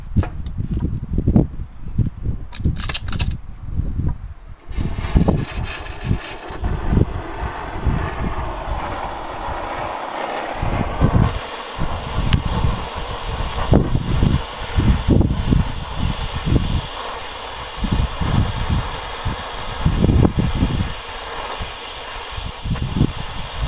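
Steady hissing roar of a hot wrench torch heating a stuck boom pin on an IH 2250 loader, continuous and close, with wind buffeting the microphone in heavy low thumps throughout.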